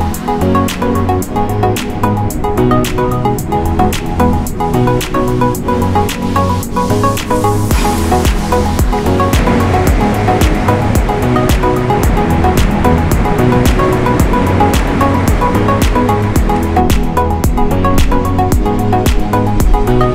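Ocean waves on a Treasure Coast beach wash in a loud, constant surf roar with no letup, mixed with a dense bed of background music and no speech.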